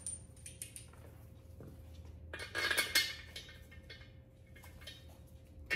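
Metal bolts clink and rattle as an intake is fitted onto a Ford 351 Cleveland engine, small scattered taps with a brief cluster of brighter metallic jingles midway, close by in a quiet shop.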